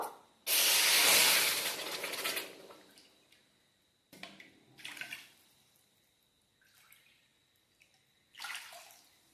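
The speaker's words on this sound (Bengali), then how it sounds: "আমি তিন বাটি এখানে জল দিয়ে দেবো" Water pours loudly into a pan of sugar to make syrup for langcha, a strong gushing splash up front followed by shorter pours and hissing, close and with no voices.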